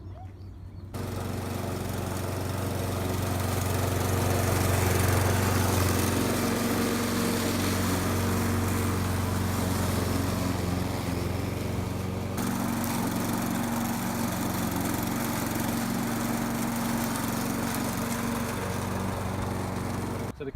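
An EMAC rotary lawn mower, a collecting machine with height adjustment, runs steadily close by, its engine droning loud and even throughout with no talk.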